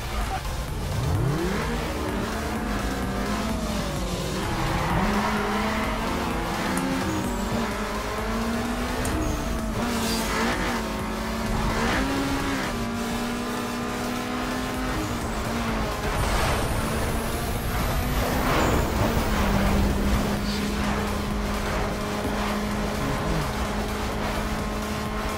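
Drag race cars in Need for Speed: Underground 2 rev hard and accelerate through rising gear shifts, the engine tones climbing and dropping repeatedly, loud and continuous for the whole run, with no talking.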